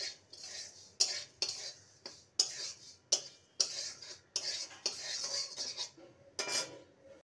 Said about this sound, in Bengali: ছাতুটাকেও ওটসের সঙ্গে সামান্য নেড়ে নেব